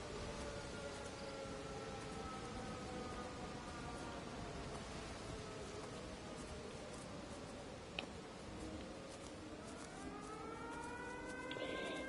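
A siren wails faintly in the video game Everybody's Gone to the Rapture, with rising and falling tones over a dense, hissing ambient background, growing clearer toward the end.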